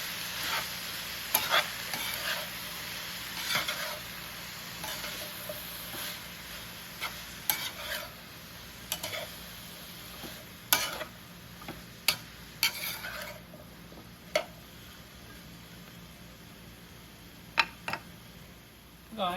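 Cabbage sautéing in a pan with no added liquid makes a steady soft sizzle. Sharp utensil clacks and scrapes from stirring break in at irregular moments, close by and with no talk.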